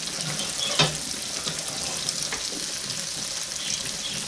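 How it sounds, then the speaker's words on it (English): A wooden spoon stirs creamy cheese grits in a pot, giving a steady wet, bubbling, sizzling wash with a few soft scrapes and knocks. It sounds close and continuous, and no one talks. "now we'll use our wooden spoon, because you have to stir these things or else they will get lumpy"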